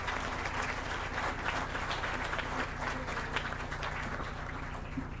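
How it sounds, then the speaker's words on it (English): An audience at a law moot court prize distribution ceremony gives a sustained round of applause, many hands clapping steadily in a large room, moderately loud and continuing throughout without speech. "Please, can I have an individual round of applause for him as well?"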